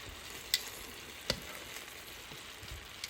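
Chicken drumsticks frying on low heat in a pan on the stove give a steady, faint sizzle, broken by two sharp clicks and a few soft knocks from the pan.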